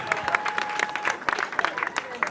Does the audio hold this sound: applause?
yes